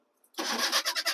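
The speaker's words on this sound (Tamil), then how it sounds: "வண்டியோட இன்ஜின் கண்டிஷன் எப்படி இருக்கும் அதையும் நம்ம ஸ்டார்ட் பண்ணியே பார்த்துடலாம்." Maruti Suzuki Omni with a petrol MPFI engine cranks and catches after a brief quiet moment, then settles into a loud, close, slightly pulsing idle.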